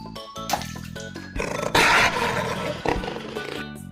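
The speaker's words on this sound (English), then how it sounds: "jaguar" A jaguar roar, a deep rumbling big-cat call building over several seconds with loud surging bursts, heard alone without talk.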